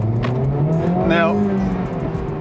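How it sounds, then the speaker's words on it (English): A 2023 Honda Civic Type R pulling away hard in sport mode, engine note rising loudly through the revs with a brief tire squeal as the front wheels scramble for grip, a voice talking over it. "I can really feel the front wheels scrambling for grip when I take off."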